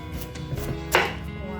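A knife cuts into a pumpkin while it is halved for pumpkin compote, giving a single crisp cracking crunch close up over low background hum.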